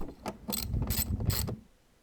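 Fastening down the enclosure of a K&N air filter housing on a Ford Fiesta ST, with four quick ratcheting bursts of a few clicks each, close and moderately loud, with no talk.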